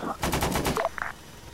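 A door gunner fires a helicopter-mounted machine gun in the ArmA 3 video game, set in Vietnam: a rapid burst of several sharp shots over about half a second, followed by a few fainter tonal game sounds.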